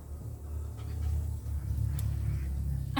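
A hen pants in the heat beside a kitchen stove, making quick, breathy puffs in a steady rhythm. The sound is close and fairly loud, with soft background noise.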